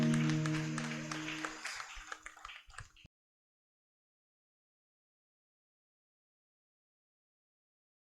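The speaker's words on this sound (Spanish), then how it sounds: "Démosle un fuerte aplauso a Dios." A church congregation claps and cheers in a dense burst of applause that thins out and ends after about three seconds, leaving silence.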